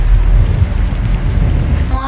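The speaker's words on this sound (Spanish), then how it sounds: "Ha parado de llover en toda la noche" Heavy rain pours through the night over an outdoor terrace, a dense steady low roar that stays constant throughout, close and loud with no clear voices.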